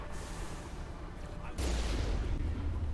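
Sniper fire in the Mass Effect video game: a sustained rumbling barrage that jumps to a louder, heavier burst partway through, with no speech over it.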